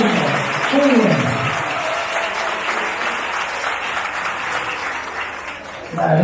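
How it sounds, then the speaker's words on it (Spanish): Sustained applause from a live show audience, steady and fairly loud throughout, with a brief voice near the start and a swell of clapping again at the very end. "esta noche el primer aplauso va a ser para todos ustedes"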